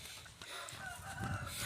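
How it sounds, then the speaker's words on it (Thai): Two old chickens clucking on a rural Thai farm, close and fairly loud, with steady fowl calls over an outdoor background. "มีไก่แก่ด้วยสองตัวนี่ค่ะ"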